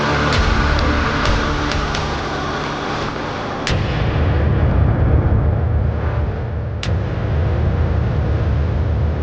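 A blast from an attack in Pakistan sounds as a loud, sustained rumbling roar with sharp cracks and a heavy low-end surge midway, chaotic and continuous without speech.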